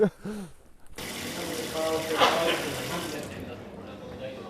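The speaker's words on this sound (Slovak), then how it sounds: "ide voda." Water pours steadily from a source found in the wilderness, a continuous close splashing flow that starts abruptly after a brief moment of speech.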